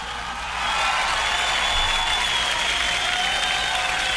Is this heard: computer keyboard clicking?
no